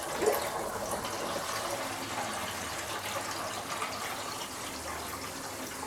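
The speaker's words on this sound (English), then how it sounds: "So if I put the pump circuit on like that, and then fire that on, the pump should start." A koi pond pump starts on a 1000-gallon koi pond and quarantine tank with drum filtration, pushing out water below the waterline: a faint, steady rushing and gushing with no pauses.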